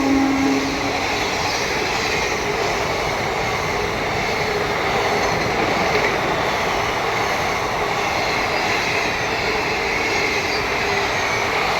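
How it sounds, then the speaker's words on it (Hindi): Shridham Superfast Express pulling out of Banmore station, heard from aboard as a loud, continuous roar and rumble of the moving train with steady wheel noise throughout, no voices. "चलिए हो गया डिपार्चर बानमोर स्टेशन से"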